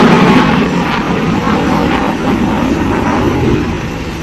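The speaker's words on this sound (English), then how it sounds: "Tejas is now demonstrating the maximum straight turn capability of the aircraft." HAL Tejas fighter jet flying a tight maximum-rate turn at an air show, a loud, broad roar that holds steady and then begins to fade toward the end.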